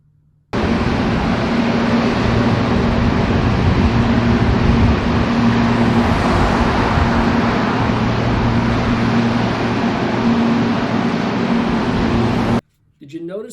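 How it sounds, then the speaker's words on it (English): Large industrial cooling fans and machines hold a loud, unbroken droning roar with a steady low hum, running for about twelve seconds before stopping abruptly. "listen to the noise that's coming from the large cooling fans and"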